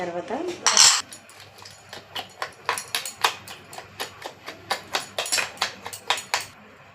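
A spoon stirs Ugadi pachadi made with neem flowers in a bowl, giving a close, steady run of bright metallic clinks and scrapes, about three strokes a second.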